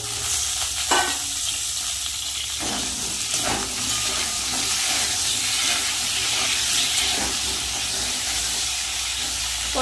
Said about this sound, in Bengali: এবার ভেজে নেব পটলটা